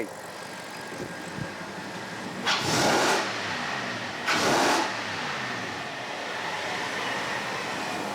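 A repaired 5-litre V8 car engine idles at moderate distance, then is revved twice in short, rising bursts before settling back to a steady, even idle.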